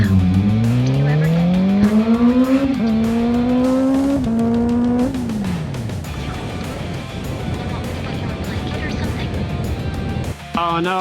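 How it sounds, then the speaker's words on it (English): A motor vehicle engine roars loudly and steadily under riding, climbing through several revving pitch sweeps before settling into a broad continuous drone with a brief dip near the end. "you're just hearing my engine. It's roaring pretty loud."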